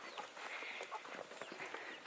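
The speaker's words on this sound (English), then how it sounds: "We're gonna give this to the chickens." Faint, busy clucking and chatter from a flock of backyard chickens expecting to be fed, heard from a little distance with no one talking.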